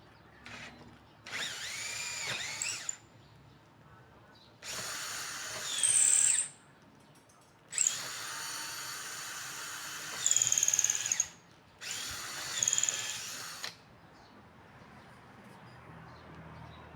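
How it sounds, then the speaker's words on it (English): A power drill bores a larger hole in hard wood in four separate bursts of a few seconds each, whining near and clear with quiet pauses between, no talk. "I drill a larger hole to receive the screw head."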